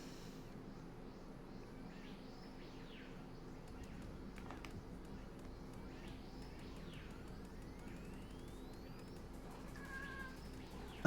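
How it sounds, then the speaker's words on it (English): A tuxedo cat perched on a cat tree meows for attention, three drawn-out meows spaced a few seconds apart, faint and mid-distance over a steady low background hum. "My sweetest little tuxedo boy jumped up on the cat tree and meowed at me for pets"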